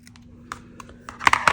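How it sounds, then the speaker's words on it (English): Scissors cutting printed paper word strips, a few short, crisp snips and clicks close by, faint at first, then a quick louder cluster near the end. "I'm gonna just cut a whole bunch of them here"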